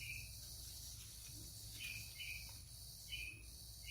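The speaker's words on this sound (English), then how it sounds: "Man, my cricket is noisy today." A pet cricket chirps indoors in short, shrill trills that recur every second or so over a steady low background hum, fairly faint and with no talking.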